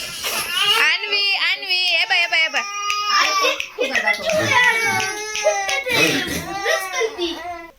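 A small child cries and wails loudly through the whole stretch, with sobbing, whining rises and breaks, close to the listener and with no other sound clearly present.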